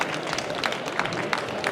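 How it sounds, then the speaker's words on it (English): Audience applause at a business expo session as a speaker comes to the stage, a dense, steady patter of many hands clapping at moderate loudness, alone without talk. "Let's give her a big round of applause as she comes to the stage."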